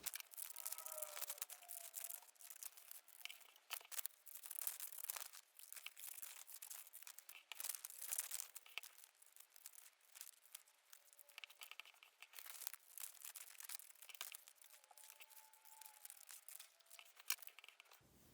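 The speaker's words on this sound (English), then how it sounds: "I'm going to take each of my pieces of paper and I'm going to cut the outlines of these shapes out." Scissors snipping through sheets of paper to cut out shapes, close and quiet, with repeated crisp cuts and rustling paper handling in an irregular rhythm.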